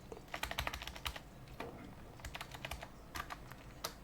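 Typing on a computer keyboard while coding, with quick, close clusters of crisp key clicks, a short pause, then further bursts of keystrokes, quiet and without talk.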